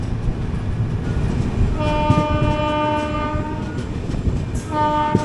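A freight train of onion-loaded BCN wagons hauled by a WAG-9 electric locomotive rumbles past loudly and close, with a sustained horn blast sounding twice over the running noise.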